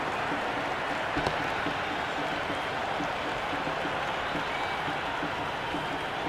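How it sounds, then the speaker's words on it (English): Dense crowd noise from the stadium stands at an IPL cricket match, Mumbai Indians against Gujarat Titans in the 2025 Eliminator, a steady roaring buzz of cheering that holds at one level throughout with no break. "There's a buzz, a real buzz coming from the stands."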